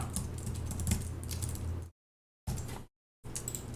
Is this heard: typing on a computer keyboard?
yes